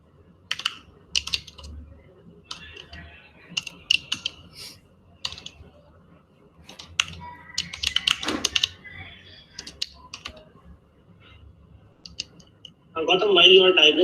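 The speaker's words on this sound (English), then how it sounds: "while you are typing" Irregular bursts of typing on a computer keyboard come through close, clicks in quick clusters separated by pauses, with a louder clattery burst near the end, during an online programming lesson.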